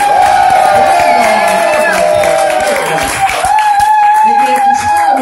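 An audience at a club show cheers and applauds, with loud, continuous crowd noise and whoops over music or a voice for the whole stretch.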